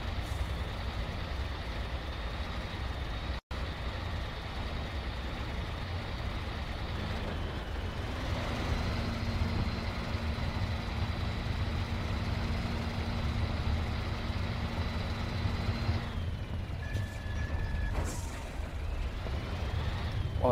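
A 4x4 truck engine labouring through mud in MudRunner American Wilds, a steady loud drone with rising strain and a brief high beeping tone near the end.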